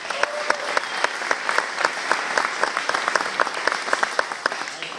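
Steady, dense audience applause inside Chesterfield County Fire Station 9 in Virginia during a presidential visit, many hands clapping continuously for several seconds, moderately close.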